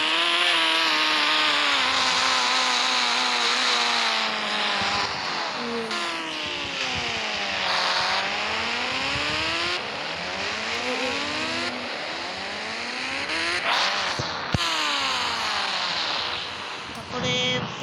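A Honda motorcycle engine in the Indian Bikes Driving 3D video game revs repeatedly, its pitch rising and falling in long sweeps, loud and close, with a voice talking over it.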